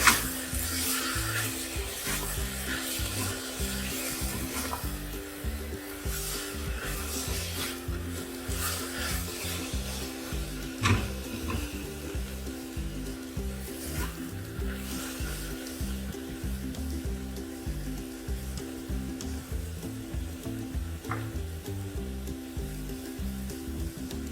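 A spoon scrapes and stirs vegetable oats khichuri with turmeric in a pan. Rhythmic, close rubbing strokes repeat steadily for over twenty seconds over a soft sizzle, with an occasional sharper knock.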